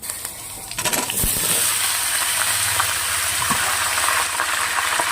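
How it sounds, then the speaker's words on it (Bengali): Chopped vegetables for a Bengali pui shak chorchori hit hot oil with a seasoned tempering, giving a few clatters and thumps and then a loud, steady hiss of frying up close. "দিয়ে দেবো কেটে রাখা সবজিগুলো।"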